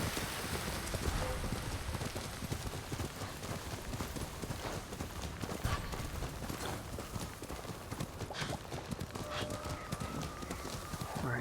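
Horse hooves in the video game Ghost of Tsushima, steady clip-clop of a moving horse over a dense wash of rain, with a brief neigh, continuous and moderately close.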